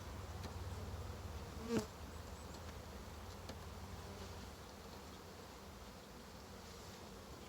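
Honey bees from two newly installed packages hum in a low, steady, faint drone outdoors, with a single brief knock partway through and no voices.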